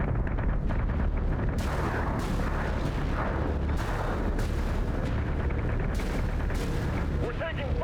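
Incoming weapons fire pounds a ship during Battlestar Galactica: Deadlock space combat, a loud, continuous barrage of booms and blasts throughout, with voices mixed into the din.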